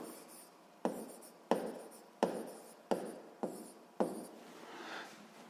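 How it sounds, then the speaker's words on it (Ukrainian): Pen writing notes for a grade 7 physics exercise: six short strokes start sharply and fade, separated by brief pauses, close and quiet with no talk. "давайте це запишемо"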